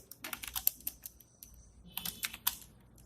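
Rapid keystrokes on a computer keyboard while code is typed, coming in two dense bursts of clicky taps separated by a quieter pause, close and clear with no talking.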